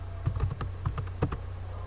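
Typing on a computer keyboard, a quick burst of close, distinct key clicks in an irregular rhythm, heard alone.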